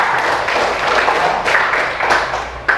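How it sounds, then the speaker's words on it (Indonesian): A classroom of students gives a short round of applause, the clapping fairly close and steady with a sharp final clap near the end. "Tepuk tangan buat Indonesia."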